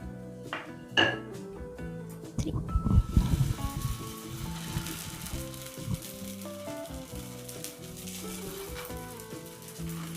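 Parotta fries in oil on a dosa tawa, a loud sizzle swelling as the dough hits the pan and then settling into a steady crackle, with a few metallic clinks of utensils.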